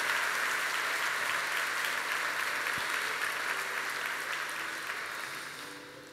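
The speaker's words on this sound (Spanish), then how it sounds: "Denle un aplauso al Señor" A church congregation applauds together during a Spanish-language service, with steady, dense clapping filling the space for several seconds before easing off slightly at the end.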